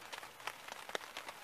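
Rain falling outdoors on a wet day, heard as a faint, steady patter with scattered soft drop taps and no voices.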